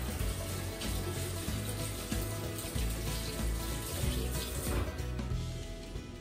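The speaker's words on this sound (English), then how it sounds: "just let me wash my hands" Hands are washed under a running kitchen tap, with water splashing steadily and some clattering and shifting sounds throughout before the flow stops near the end.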